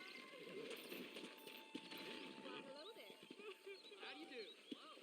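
Rhythmic clip-clop of horse hooves with a brief whinny in the video game Red Dead Redemption, while people talk over the top and faint birdsong sits in the background.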